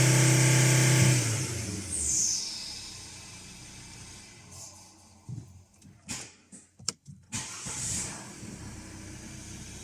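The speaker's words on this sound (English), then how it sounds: "As you can see, the engine is starting, the car is running very good so far." Car with a crank-but-no-start fault, engine rumbling at first and then dying away to hiss and scattered clunks and knocks before a faint whine returns, close and without speech.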